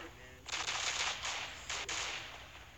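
A rapid burst of automatic gunfire from the shooter game Standoff rattles loud and close, with a brief pause midway before firing resumes, ending in a fading tail.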